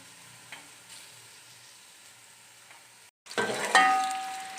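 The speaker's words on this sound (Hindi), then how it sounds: "प्याज को हम गोल्डन ब्राउन करेंगे।" After a moment of near-silence, sliced onions drop into half a cup of hot oil for Afghani chicken pulao, erupting into a loud, close, bright sizzle that keeps building.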